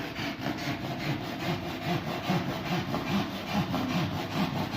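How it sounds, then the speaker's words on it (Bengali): A hand saw cuts through a board for a cabinet front in fast, steady back-and-forth strokes, close and fairly loud, with no other sounds. "মুখগার্ডের বোর্ড কাটা হচ্ছে এখানে।"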